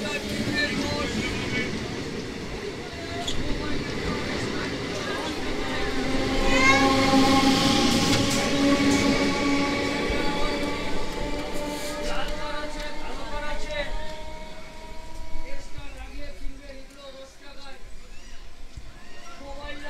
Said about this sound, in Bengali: বন্ধুরা, আমাদের ট্রেন হাবড়া ছেড়ে দিল।